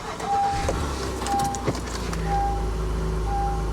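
Honda Ridgeline pickup engine starting and then idling, a low steady rumble settling in after the start, with some tonal beeps and clicks from the cab over it.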